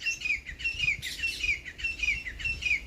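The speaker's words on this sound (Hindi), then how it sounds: "ये पीछे जो पंछी बोल रहा है" A bird chirps outdoors in a repeated pattern of short, bright calls and trills, roughly twice a second, at moderate distance over a low, steady background hum. No one speaks.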